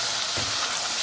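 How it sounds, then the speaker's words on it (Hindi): Chana dal roasting in a kadhai, a dense, loud, continuous sizzle with a brief stirring scrape partway through. "अब दाल जो है वो इसमें ऐड करेंगे, थोड़ा सा इसको भून लेते हैं"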